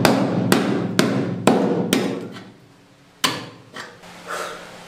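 A hammer raps on the wooden hull of a boat under renovation: five sharp, evenly spaced blows, then a pause and a few lighter knocks, close and ringing against a quiet background.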